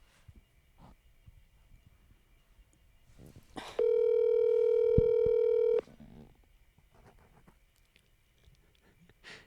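A phone call placed to a family member, with a short burst of dialing tones followed by a steady, loud ringback tone lasting about two seconds, set against quiet room noise.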